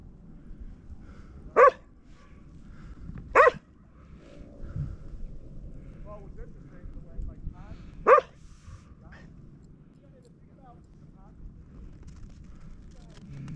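At a winter dog beach in Wilmette Harbor, Illinois, a dog gives three sharp, separate barks a few seconds apart against a quiet outdoor background with faint voices.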